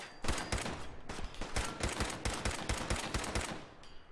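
Pistol fire in the video game Fallout 4 comes as a rapid string of about fifteen sharp shots in quick succession, loud and close with no talk.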